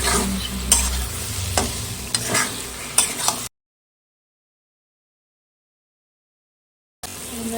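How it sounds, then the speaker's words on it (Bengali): Marinated chicken coated in spices stirred and frying in a pan, steady sizzle with a few scraping stir strokes for about three and a half seconds, then silence before the sizzling resumes briefly at the end. "ম্যারিনেট করে চিকেনটা দিয়ে নাড়া করে দিয়ে নেবেন ভালো করে মশলাটা মিশিয়ে নেবেন"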